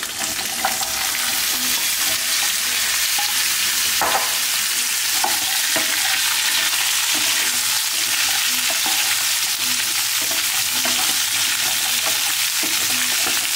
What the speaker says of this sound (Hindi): अब हम इसको 2 से 3 मिनट इसी तेल में ऐसे ही सॉटे करेंगे।